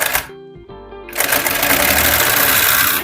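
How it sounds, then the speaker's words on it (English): A serger overlocks the raw edges of sewn fabric for a dressmaking project, a loud close mechanical whir that starts after a short stutter and then runs continuously. "Then I just go ahead to serge the raw edges."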